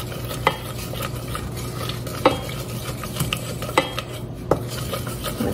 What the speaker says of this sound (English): we are going to whisk this around with a little spurtle here, being sure that everything is really well combined